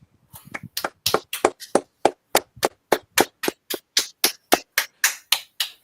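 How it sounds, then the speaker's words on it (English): A small group claps in a steady, evenly spaced rhythm of about twenty sharp hand strikes over five seconds, close and fairly loud, with no voices over it. "let's give Martin a 5-second round of applause"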